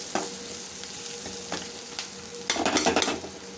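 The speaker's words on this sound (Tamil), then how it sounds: "வெங்காயம் இது நல்லா வதங்கட்டும்." Salted onions sautéing in a pan sizzle steadily, with scattered utensil taps and a burst of busy stirring and scraping near the end, and no voices.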